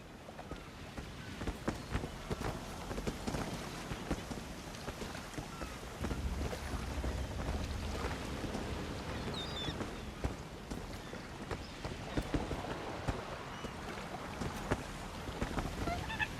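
Sailing ship putting out to sea in Elder Scrolls Online, with a steady wash of water and wind against the hull, occasional creaks and knocks, and scattered footsteps on deck, all at moderate level with no talk.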